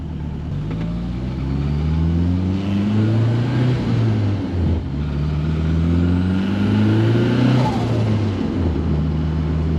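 A 1974 BMW 2002 with a turbocharged M10 engine on its first test drive, engine revving up and down through gears in rising and falling sweeps, loud and close from inside the car.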